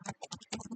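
Quick clattering keystrokes on a computer keyboard, about eight taps in an uneven burst, close and clear with no talk over them.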